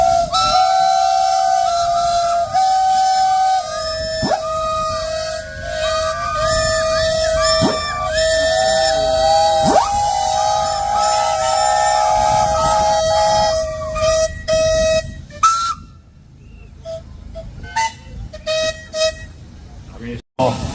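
Steam traction engines at the Sheffield steam show blast several long, loud, overlapping whistles together, sustained for many seconds before breaking into shorter toots and trailing off, with crowd noise and voices underneath.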